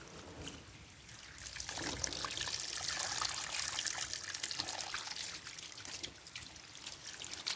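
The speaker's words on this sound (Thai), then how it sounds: "ล้างออกก่อนนะล้างออก ต้องล้างปลวกล้างปลวกออกให้หมดก่อนนะ" Water pours and splashes steadily over a potted plant infested with termites, rinsing the insects off in a close, continuous trickling stream with no talking.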